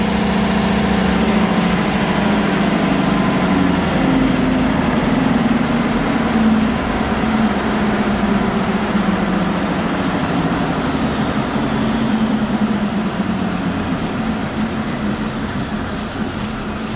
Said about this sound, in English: You'll notice that the machine takes a little bit of time to shut off. We're going to let it coast down on its own.